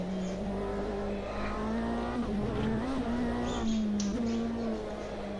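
Race car engine in Automobilista 2 holds a steady, loud drone with rising and falling revs through gear changes, tires faintly scrubbing underneath, continuous for the whole stretch with no voices.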